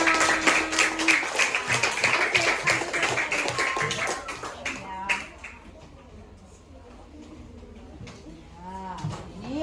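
Children clapping in a primary school classroom, a dense burst of overlapping claps for the first few seconds that thins and fades, with voices and classroom chatter continuing beneath and after.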